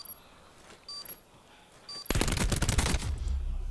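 Rapid automatic gunfire from a Call of Duty match at a CWL Pro League 2019 esports event bursts in after two quiet seconds, loud and dense, following a few faint earlier tones and clicks.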